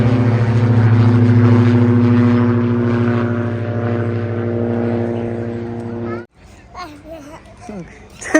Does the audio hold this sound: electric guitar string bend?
no